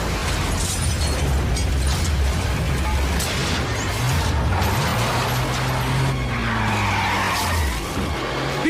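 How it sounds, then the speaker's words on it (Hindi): A movie action scene with an explosion blast followed by screeching, skidding vehicles, loud and continuous with rumbling low end and sliding tire tones. "ये क्या ब्लास्ट हो गया?"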